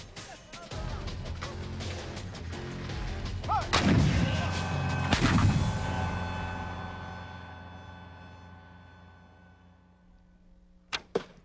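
A heavy artillery cannon blast booms and rolls away into a long fading rumble, followed by a couple of sharp metallic clanks at the end.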